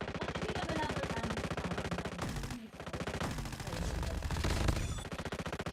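Rapid automatic gunfire rattles on almost without pause in dense, even bursts, loud and close, with one brief break partway through.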